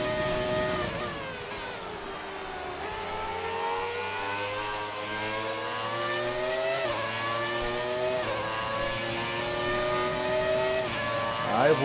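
A 1996 Williams FW18 race car in the video game F1 2019 accelerates hard, its engine whining and climbing through rising gear sweeps with brief dips at each shift, loud and continuous with no speech.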